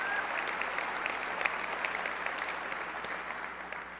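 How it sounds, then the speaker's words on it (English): Employees in a conference room clap together, a steady, moderately distant patter of many hands that holds evenly throughout and tapers slightly at the end. "So NI employees in the room clap."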